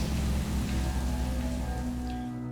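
Rain falling in a steady, dense patter on surfaces, continuous and fairly close beneath a low humming drone, with no one speaking.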